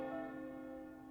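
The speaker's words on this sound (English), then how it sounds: "The bell ringing?" Deep resonant bell ringing in the video game Tower of Fantasy, a single sustained toll with rich humming overtones that slowly decays, heard alone without talk.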